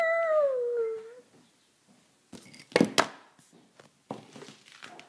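A single drawn-out dog howl sliding downward, loud and close at first, then fading into a string of sharp thuds and rustling crinkles.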